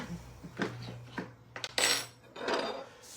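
A lid is fitted onto a kitchen cooking machine holding feijoa, rhubarb and chilli chutney ingredients. It makes a few quick, close clinks and clatters, followed by a brief scraping rush of plastic settling into place.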